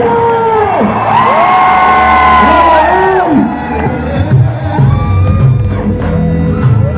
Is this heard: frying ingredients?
no